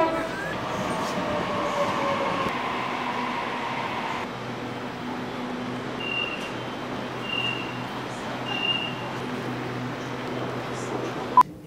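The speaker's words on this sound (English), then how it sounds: "Here we are on my favourite mode of transport, Sydney trains." Steady rumble and rolling hum inside a moving Sydney passenger train, with brief electronic tones and faint voices in the carriage.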